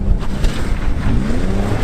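Junkyard rally cars roar through mud toward a cornfield in a homemade race, a loud, close engine drone with rumbling low end and buffeting wind noise, steady throughout with no voices.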